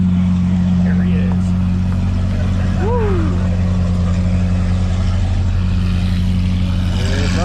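A BMW M850i's loud engine idles with a deep, steady rumble throughout at a supercar rally, while people talk and shout excitedly nearby.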